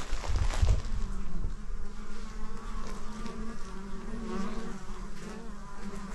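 Bees buzz steadily and close at an apiary beside a deer-fenced compost area, a continuous droning hum with a louder burst near the start, no voices.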